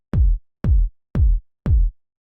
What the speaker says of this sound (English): So I just loaded my kick sample and it sounds like this.